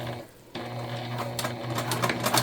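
A sewing machine top-stitches a DIY car trash can bag with white thread, running as a continuous close, whirring mechanical chatter that builds slightly in intensity.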